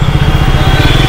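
A Triumph Speed 400 motorcycle engine pulls steadily in third gear at low speed, a loud, close, continuous throbbing drone with a rhythmic low pulse and no talk over it.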